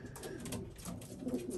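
Racing pigeons in a loft coo softly and repeatedly, low murmuring calls overlapping close by with faint rustling in the background.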